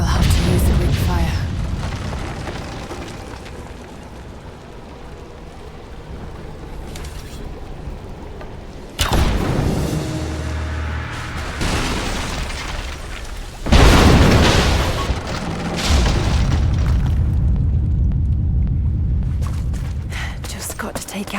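Greek fire explodes against unstable statue supports in Rise of the Tomb Raider, with two sudden loud blasts followed by roaring, crumbling rumble over a steady background of game ambience and quiet spoken voice.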